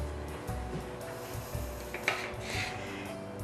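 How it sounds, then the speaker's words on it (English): A spoon scrapes and clinks as pear slices are lifted from a large can, making a few soft metallic knocks and wet shuffles close by. "you need to spoon out your pears"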